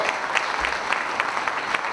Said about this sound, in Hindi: इसके लिए ताली आपको बजाना पड़ेगा।